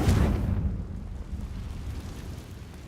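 Confringo blasting curse in the Hogwarts Legacy video game, a loud deep explosive boom that hits at once and rumbles away over a few seconds.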